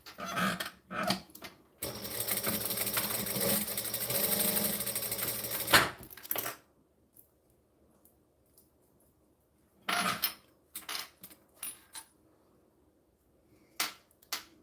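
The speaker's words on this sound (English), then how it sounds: "I'm just sewing down the center to have a third line that looks funky." A sewing machine stitches a line down the center of a piece in one loud, steady burst of about four seconds, with scattered clicks and handling knocks before and after and quiet gaps between.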